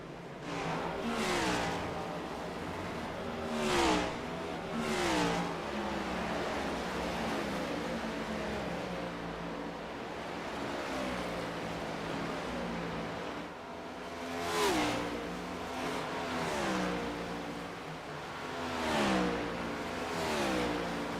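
Race car engines in a sim racing game at Watkins Glen boot layout, oval series: steady engine drone with repeated rising and falling revs as cars pass and shift, moderately loud throughout.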